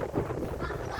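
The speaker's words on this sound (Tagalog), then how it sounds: "Grabing hangin." Strong wind blasts across the microphone outdoors at a house with a swimming pool, a loud, steady rumbling roar through the whole short stretch.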